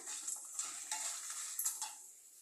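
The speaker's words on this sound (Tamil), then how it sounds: "அதையும் நல்லா கிறிஸ்பியாக வறுத்துட்டு காஞ்ச மிளகாய் போடுறேன்." Dried red chillies fry in hot oil for puliyodharai, giving a soft close crackle and sizzle with a few light scraping stirs, all quiet and without speech.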